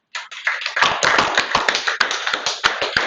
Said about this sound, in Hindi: चलिए तालियां बजाएं इनके लिए और जरा अच्छे से बजाइएगा